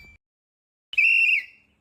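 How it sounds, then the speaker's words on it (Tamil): A single sharp whistle blast lasting about half a second, loud and close, following a brief low sound and near silence, with no talk. "ஏய் சார் ஏன் அடிக்கடி விசில் அடிக்கிறாரு?"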